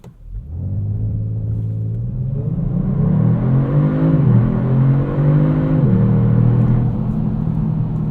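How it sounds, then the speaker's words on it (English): A 2022 Kia Stinger GT2 AWD V6 pulling away hard from a boosted launch with traction control off: a deep engine roar climbs through the revs, dips at a gear change, then keeps building, loud and steady inside the cabin. "it's less of a launch controlled start, more of a boosted launch"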